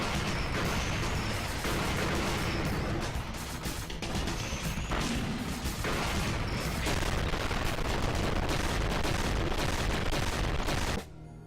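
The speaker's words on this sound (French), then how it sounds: "vous en avez de l'explosion là" Dense, continuous barrage of explosions and gunfire from the side-scrolling mech shooter video game Gigantic Army, loud and relentless with overlapping bursts and booms before cutting off abruptly near the end.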